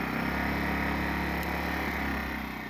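A Predator 1400 generator runs steadily at a low, quiet idle, its engine drone even and continuous throughout with no talk over it.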